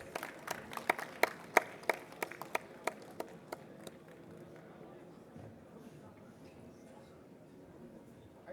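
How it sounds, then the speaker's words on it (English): A conference audience claps for an industrial equipment company team joining the stage, a run of sharp, distinct claps in the first four seconds that thins and fades into a quiet murmuring room. "Ladies and gentlemen, welcome them with a huge round of applause"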